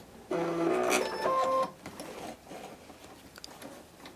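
A sewing machine stitches binding onto a quilt top and briefly sews over a nail file. It gives a quick, close burst of mechanical stitching that lasts about a second, followed by quieter fabric handling.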